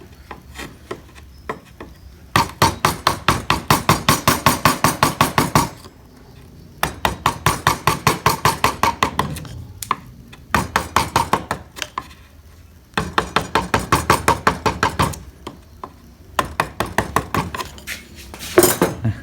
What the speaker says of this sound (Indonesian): kemudian dibikin menjadi cekung menggunakan pahat kol